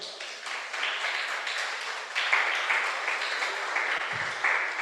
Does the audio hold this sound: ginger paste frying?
no